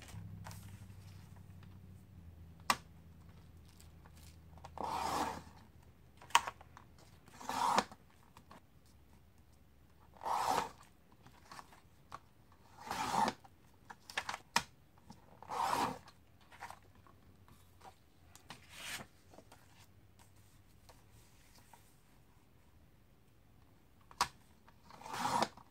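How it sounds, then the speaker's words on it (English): Scissors cutting paper to size for a to-do journal, scattered short snips and crisp paper rustles at uneven intervals, quiet and close, with no voices. "now I've got to cut these papers down to the correct size"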